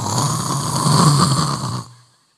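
A preacher's voice imitates a person snoring: one long, loud, raspy snore lasting about two seconds before trailing off.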